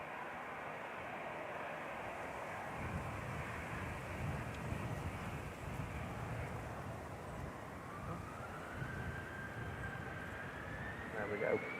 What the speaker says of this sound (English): Next to come is KLM 1035 from Amsterdam, PHBXY 737800. On short final now.